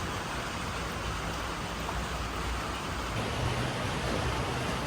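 Steady, heavy rain pours down without a break at a home with a leaking roof, a dense continuous hiss close around, with no voices.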